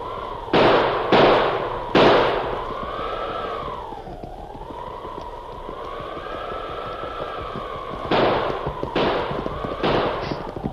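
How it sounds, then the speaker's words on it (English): A heavy six-gun revolver fired in a 1944 Lone Ranger radio drama, with about six sharp cracks in two clusters, three early and three late, over a continuous wavering whistling tone. "he pulled the heavy 6-gun from under his mackinaw and began firing"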